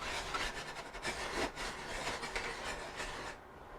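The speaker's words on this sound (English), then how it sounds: "Gonna whisk these together." Dry cupcake ingredients, including coconut sugar and vanilla powder, whisked together in a bowl, giving a continuous soft scratchy rustle with quick repeated strokes, close and fairly quiet, with no talk.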